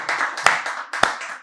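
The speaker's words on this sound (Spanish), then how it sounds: "Denle un aplauso al Señor ahí donde te encuentras" A few people in a church congregation clap in a slow, uneven rhythm, with two sharper, louder claps standing out among softer ones; a brief, close, sparse sound.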